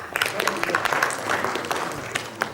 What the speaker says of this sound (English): We all deserve a round of applause for ourselves.